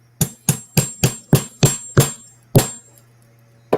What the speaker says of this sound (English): And then I'm going to hammer it in as well.